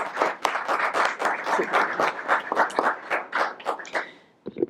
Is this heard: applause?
yes